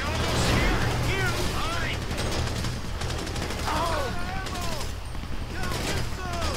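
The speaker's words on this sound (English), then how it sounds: "You hear that gunfire?" Rapid gunfire bursts crackle in Grand Theft Auto V, loud and near, over a low vehicle rumble, with voices calling out between the shots.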